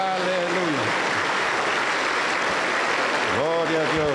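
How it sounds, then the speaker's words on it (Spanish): A church congregation claps steadily through a Sunday Lord's Supper service in Junín, Peru, with voices calling out over the applause at the start and again near the end. "Aplauso para el Señor Jesús."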